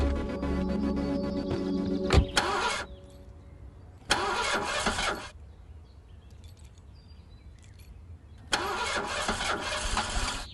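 A car with a tampered engine is cranked three separate times, each burst of the starter's whirring churn lasting under a second and separated by quiet pauses.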